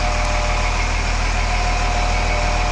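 A 2005 Volvo G710B road grader's diesel engine idles steadily and loudly up close, a continuous low rumble with a constant throbbing hum and no voices.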